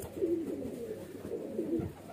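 Soft cooing from a small-bodied highflyer pigeon, a few low murmuring coos rising and fading over a faint background hum, fairly close and alone.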